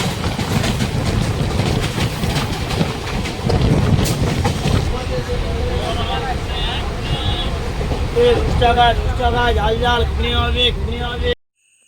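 The Puri Shalimar Garib Rath Express runs on rails with a loud, continuous rumble and rhythmic clatter of the carriages, with voices or tonal sounds rising over it in the second half before an abrupt cut.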